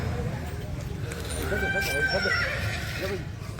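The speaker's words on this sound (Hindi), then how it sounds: "अभी घोड़े स्टार्ट हो चुके हैं बोलने के लिए, आवाज़ दे रहे हैं" A horse whinnies with a rising, wavering call at a stud farm at night, while other horses neigh faintly in the background and a voice talks over them.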